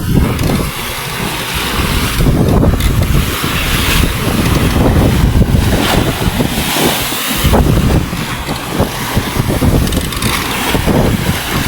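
Big waves driven by the northeast monsoon surge around a small fishing boat out at sea, with heavy wind buffeting the microphone in a loud, continuous roar of wash and gusts, and no voices.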